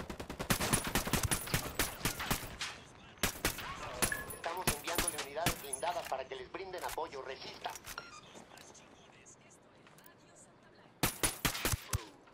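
Gunshots ring out in a video game firefight, sharp repeated cracks in fast bursts at the start and again near the end, loud and close, with talk heard in the quieter middle stretch.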